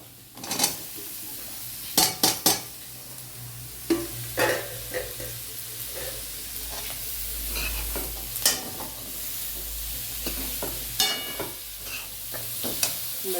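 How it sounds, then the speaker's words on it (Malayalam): Chopped onions, mostly shallots, drop into a hot pan and are stirred, bringing loud spoon scrapes and clanks against the metal over a soft sizzle, with irregular bursts of stirring. "ഇനി അടുത്തത് നമ്മൾ അരിഞ്ഞു വെച്ച ഉള്ളിയൊക്കെ ഇടുക"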